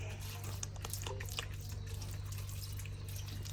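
Faint, steady trickle and splashing of water poured over cut cassava to wash it, continuous with small drips and a low background hum.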